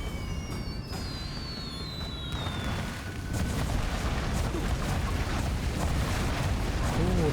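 Deep booming bursts of fireworks in the video game Trek to Yomi roll in one after another over a dense rumble, with a thin descending whistle early on, loud and continuous.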